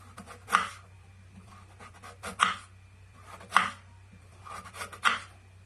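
A knife cuts thin slices of potato for a home-cooked potato omelette. Four crisp, separate cuts land at an even, unhurried pace, fairly quiet against a faint background hum.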